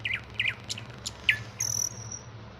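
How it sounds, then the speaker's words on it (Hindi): Short, sharp video game bird chirps sound several times over a steady insect-like hum, ending with a brief high whistle. "एक चिड़िया की आवाज आई यहाँ से बस"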